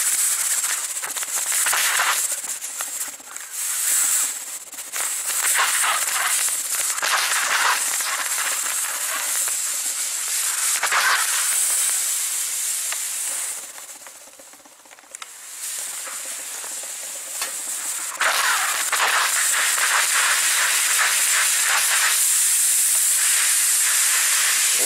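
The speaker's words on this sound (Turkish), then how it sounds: "yüksek sıcaklıktaki buhar basıncı bez girmeyen yerleri de gayet güzel temizliyor" A cheap steam mop from a budget store jets hot pressurised steam in a steady loud hiss that runs nearly continuously, dipping briefly at moments, with no talking over it.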